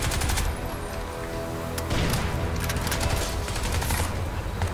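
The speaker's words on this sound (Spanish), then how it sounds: "Está tirando granadas" Heavy gunfire and explosive bursts from enemies throwing grenades, some of them smoke grenades, in the Crysis 2 shooter, a dense continuous barrage with sharp impacts that stays loud throughout.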